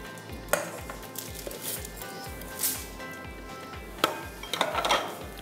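Dark chocolate cheesecake mixture being stirred by hand in a bowl, soft scraping and scattered utensil clinks against the bowl, fairly quiet with a few sharper knocks.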